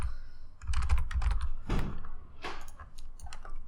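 Rapid typing on a computer keyboard, bursts of close, crisp key clicks in an irregular rhythm with brief pauses, while a Photoshop text tool is used to enter text, no speech.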